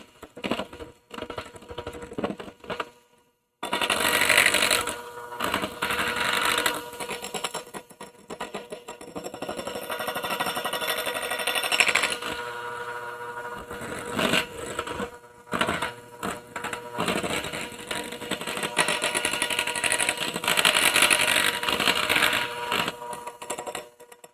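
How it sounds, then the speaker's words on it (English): An heirloom electric hand mixer whips heavy cream with powdered sugar and vanilla, a loud, steady whir that runs nearly nonstop, with one short silent break near the start and small shifts in pitch as the beaters move. "My mixer is a heirloom from Grandma, and it's a hand controller."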